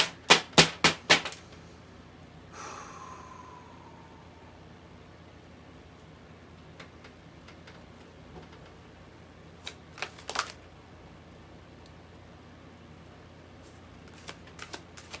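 A tarot deck is cut and shuffled, starting with a quick burst of five or six sharp card riffles, followed by a single swish and scattered soft taps and flicks of cards over a quiet room.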